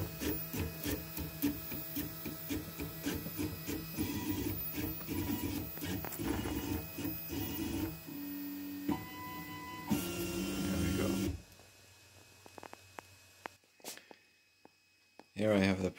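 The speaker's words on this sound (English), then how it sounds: "Last 20 seconds of the print." A 3D printer finishing a print, its stepper motors buzzing in rapid rhythmic pulses and tones, then slowing to short movements, a low hum and scattered clicks as it completes.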